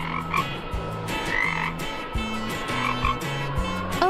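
A cartoon frog croaks in a steady rhythmic series of low, buzzy calls repeating about twice per second, clear and close, with no talking.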